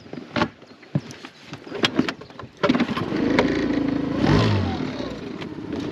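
A boat's engine idles slowly on holiday waters in Friesland, entering as a steady low mechanical rumble after a few knocks and clunks and continuing with a slight swell in intensity.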